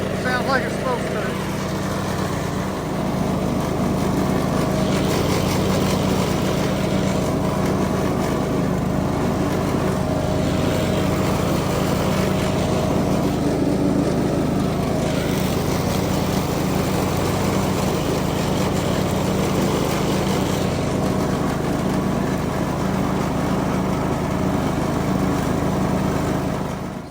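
A lawn mower engine runs steadily after a deck repair, a loud, even drone with a low hum that holds constant throughout, heard close by.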